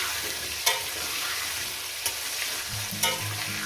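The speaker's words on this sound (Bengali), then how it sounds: "বন্ধুরা আলুগুলো সব দিয়ে দিলাম আলুগুলোকে সুন্দর করে আমি ভেজে নিলাম" Potatoes fry in a pan with a steady, close hiss, while three distinct scrapes of stirring come at intervals and a faint low hum enters toward the end.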